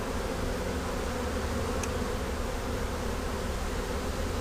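Dense, steady hum of many honey bees swarming around comb as a colony is moved from an old swarm into a new hive, a close, unbroken drone filling the whole stretch.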